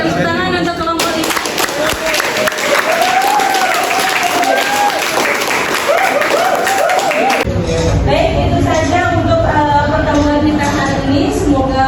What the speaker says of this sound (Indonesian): tepuk tangan untuk kelompok ini